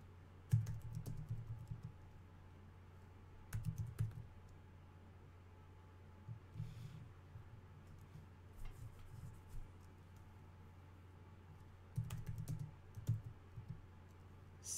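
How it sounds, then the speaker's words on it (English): Computer keyboard typing in short, scattered bursts of clicky keystrokes separated by quiet gaps, fairly close and alone. "I'm still a slow typer, guys."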